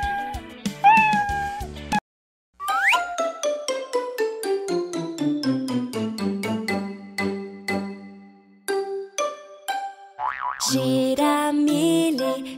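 A cartoon cat meows repeatedly in a children's musical animation, bright sliding cries over a plucky bouncing backing tune, loud and close, with a brief silent gap before the melody resumes.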